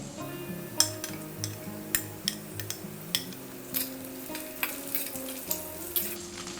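Potato and pointed gourd fry in a pan with a steady low sizzle under repeated rhythmic scrapes and clinks of a spatula against the pan, close up.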